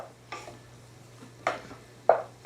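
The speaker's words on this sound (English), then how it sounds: "We need that one kind of an initial stir." Spoon scraping through flour being stirred into a roux for crawfish étouffée in a pot, three soft, separate scrapes against a quiet background hum.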